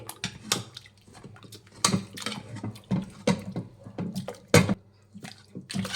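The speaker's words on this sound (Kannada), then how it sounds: "ಫ್ರೆಂಡ್ಸ್ ನೋಡಿ, ಒಂದು ಸ್ವಲ್ಪ ಬೇಳೆನ ಮ್ಯಾಶ್ ಮಾಡ್ಕೊಳ್ಳಿ." Cooked toor dal being mashed in a steel pressure cooker pot, with repeated wet squelching taps and clinks of a utensil against metal in an irregular rhythm.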